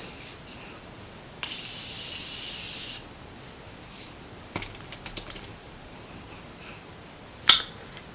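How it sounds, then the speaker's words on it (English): Morphe Continuous Setting Mist spritzed onto a face, a close, fine hissing mist lasting about a second and a half, followed by faint rustles and a sharp brief burst near the end. "I'm just going to set my face with the Morphe Continuous Setting Mist."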